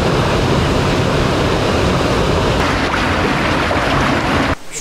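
Rushing mountain stream in the Kaz Mountains, trout water, as a loud, steady broadband roar of flowing water filling the whole stretch up close, briefly dropping away right at the end.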